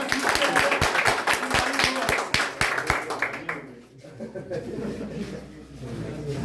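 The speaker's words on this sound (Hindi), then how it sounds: "जोरदार ताली।" A crowd at a toppers' award ceremony claps hard for a top student, with dense rapid clapping for about three seconds that fades out as a voice begins speaking over a quieter room.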